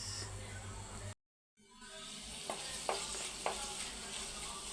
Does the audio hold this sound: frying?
yes